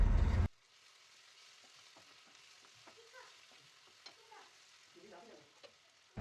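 Ginger garlic paste fries with tomatoes for an egg tomato curry, opening with a short loud sizzle burst. Quiet scattered scrapes and taps of stirring follow, and a burst of sizzle returns at the very end.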